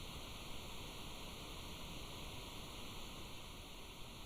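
Running water and rain in a garden at night, a constant soft wash of broadband noise, faint and even, with no distinct drops or voices.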